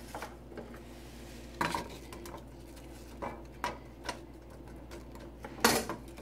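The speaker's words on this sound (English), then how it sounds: "So we're going to be adding the apples." Apple pieces go into a pan of melted vegan butter with a few clinking knocks of utensil against pan, soft stirring scrapes and a faint low cooking hiss, close by and without talk.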